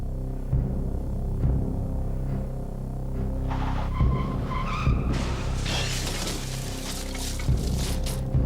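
A car with a police escort following rounds a corner on a street, its engine throbbing steadily while the tires skid and squeal. The squeal rises into a loud, harsh screech over the second half.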